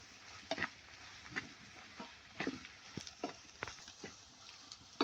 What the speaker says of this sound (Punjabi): ਮਸਾਲੇ ਪਾਉਣ ਤੋਂ ਬਾਅਦ ਇਹਨਾਂ ਨੂੰ ਕਰ ਲਾਂਗੇ ਜੀ ਚੰਗੀ ਤਰ੍ਹਾਂ ਮਿਕਸ